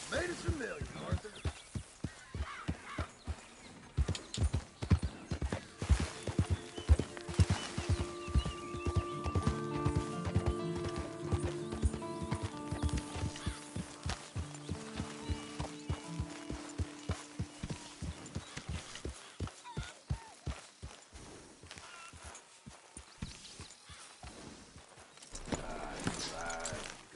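Horse hooves clip-clop in steady rhythm in Red Dead Redemption, under a layer of game music with brief voices, the footfalls strongest in the first half and fading toward the end.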